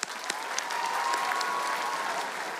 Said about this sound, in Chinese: 几乎都没有休息过，给大家一个掌声。